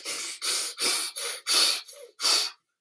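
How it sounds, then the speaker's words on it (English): Heavy, forceful breathing in a rune meditation, seven hissing breaths in a steady rhythm, close and alone with short gaps between them. "So you're doing a lot of heavy breathing like this."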